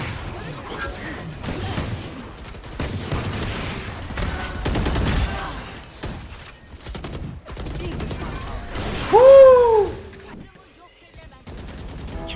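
Valorant match gunfire, including Operator sniper rifle shots: bursts of sharp shots and rapid fire come through the middle, with game effects, mixed under excited player talk.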